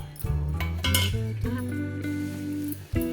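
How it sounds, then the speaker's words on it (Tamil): Tomato pieces being dropped into a steel mixer jar, giving a few sharp metallic clinks and ringing tones that sustain and fade, fairly close and clear with no talking. "இப்போ நம்ம வந்து தக்காளியும் மிக்சி ஜாரில் சேர்த்துடலாம்"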